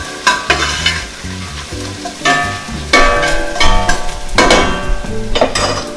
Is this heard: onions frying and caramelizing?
yes